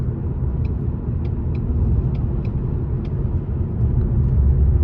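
A 2023 Ford Mustang GT Premium with the 450 hp 5.0 V8 driving, its engine and exhaust a steady low rumble heard from inside the cabin, with a few faint high clicks over it.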